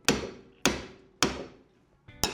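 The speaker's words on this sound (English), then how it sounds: "get that hammer on it to get this disc off" Four heavy metallic hammer blows strike a brake disc seized onto the hub of a Mercedes 190E, each a loud, close clang with a ringing decay, spaced at a steady rhythm about half a second apart.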